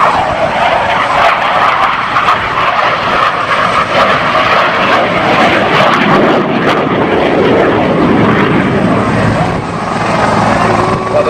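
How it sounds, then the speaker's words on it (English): A CF-18 Hornet jet fighter makes a topside pass at an air show, its loud, sustained engine roar filling the air and shifting gradually as it passes, with crowd and announcer sounds faintly beneath. "the CF-18 Hornet."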